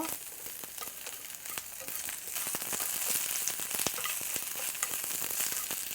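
Beef stir-fried in a pan for Chinese-style fried noodles, sizzling steadily and loudly close by with frequent scraping and stirring clicks, no voices.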